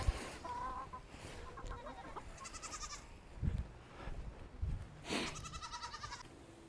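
Chickens clucking and cackling close by in short repeated bursts, mixed with bleating animal calls.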